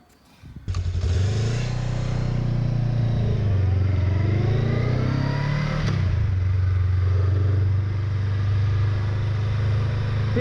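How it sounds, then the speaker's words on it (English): Honda Rebel 500 cruiser motorcycle engine heard while riding, a loud, steady rumbling drone that starts after a brief moment and holds throughout with one shift in pitch midway, no talking. "Here we are riding Sasha's Rebel 500"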